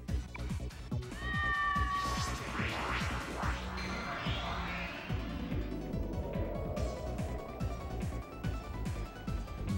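A monster cat in the video game Persona 2 lets out loud drawn-out meows and yowls, then a lower drawn-out wail, over rapid thudding hits and game effects.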